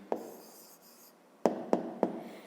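A pencil scratches on paper in a quiet room: one short stroke, a pause, then three quick firm strokes in a row, close and clear with no talk over them.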